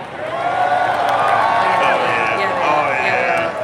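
A tournament crowd at a Marvel Rivals event at Dreamcon cheers and whoops in a loud, steady roar lasting a few seconds, with voices mixed into the noise.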